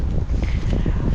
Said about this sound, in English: I don't know if you can tell this wind gusts.